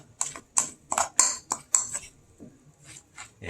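A spoon scrapes and clinks through a bowl of tuna and spinach mix in a rhythmic series of close, sharp strokes, about a dozen in quick succession, with no talking.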